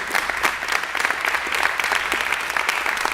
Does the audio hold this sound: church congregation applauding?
yes